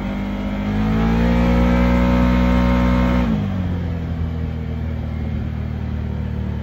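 A Can-Am Maverick Sport XRC 1000R side-by-side, switched into race mode, revs its engine in a loud sustained drone that holds steady, then drops abruptly to a rough, lower idle.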